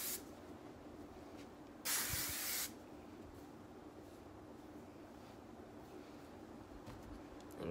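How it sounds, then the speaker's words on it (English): A single short burst of hairspray from an aerosol can is sprayed onto hair while styling beach wave curls, loud and close, set against a quiet room hush. "Give it some spray."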